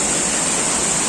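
A waterfall in Barrio La Unión, Chicaña, Yantzaza, roars as a loud, steady, broadband rush of falling water, close and continuous with no other sounds.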